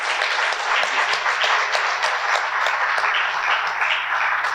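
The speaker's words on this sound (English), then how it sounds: "Let's give them all a great round of applause." Audience applause for participants at an arts showcase, a dense steady wash of many hands clapping at close range, sustained evenly throughout with no talk over it.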